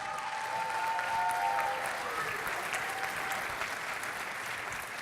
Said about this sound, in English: Let's hear it for Nancy Benet.